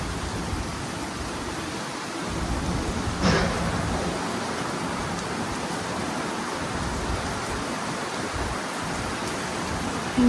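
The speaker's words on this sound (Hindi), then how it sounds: "It's raining." Steady rain falls at home during a hot spell, a dense, even hiss of drops on surfaces that continues unbroken, with one brief sharper tap partway through.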